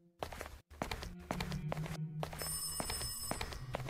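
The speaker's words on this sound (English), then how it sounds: "I hear a phone." A telephone rings in a horror video game, with repeated bell-like tones over thuds, tapping steps and a low droning ambience, fairly quiet overall.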